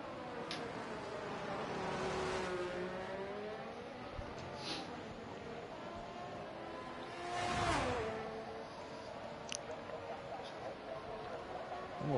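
An F1 race car engine in the F1 2023 video game at the British Grand Prix, Silverstone, rising and falling in pitch through a warm-up lap, with a couple of louder passing swells and voices talking over it.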